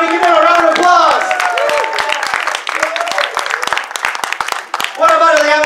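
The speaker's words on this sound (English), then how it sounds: "Everybody give it a round of applause." Clapping and cheering from a crowd at a fan event for the 2017 Ghost in the Shell movie premiere, dense and sustained with scattered whoops, while a host's voice talks over it at moments.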